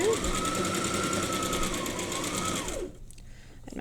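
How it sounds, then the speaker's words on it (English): A sewing machine stitches fabric strips at a quarter-inch seam, running in a steady fast whirring rattle for nearly three seconds before stopping, leaving near silence with faint handling noise. "So let's bring this to the sewing machine. We're going to sew at 1/4 of an inch"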